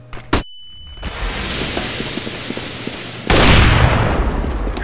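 A flashbang grenade goes off in Counter-Strike: Global Offensive, a sharp burst after a short sharp click, then a loud sustained wash of noise that jumps up even louder near the end.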